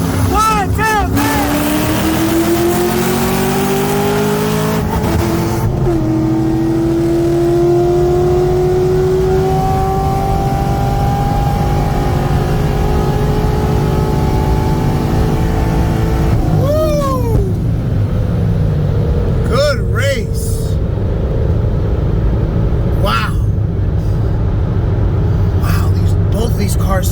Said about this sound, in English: Cars sound amazing.